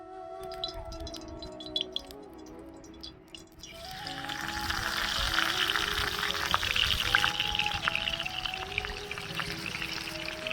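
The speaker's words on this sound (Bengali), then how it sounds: "কড়াইয়ে সরষের তেল দিয়ে বড়াগুলো ভেজে নেব।" Masoor lentil fritters made with pumpkin leaves hit hot mustard oil in a wok. After a quieter opening of soft tones, a loud, dense, bubbling sizzle swells up and continues steadily to the end.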